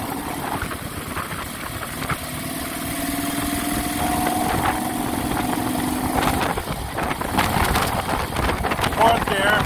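A 1970 Moto Guzzi Ambassador motorcycle runs steadily while riding, its engine drone holding even with a rising tone partway through, overlaid by constant wind noise across the microphone.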